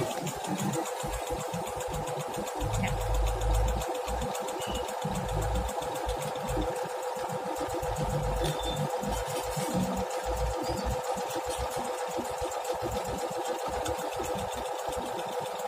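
A Singer Stylist 9100 digital sewing machine stitches a buttonhole, its motor whirring steadily with a fast, even needle rhythm, close and continuous throughout with no talking.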